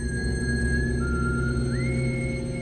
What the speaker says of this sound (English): My mind is far too much taken up with the whistling in my walls.